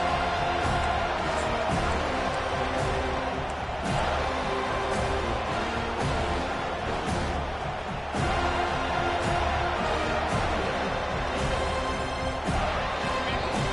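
Dense, steady roar of a college football stadium crowd at Clemson vs Florida State, loud and sustained throughout with a few sharper surges, no clear talk over it.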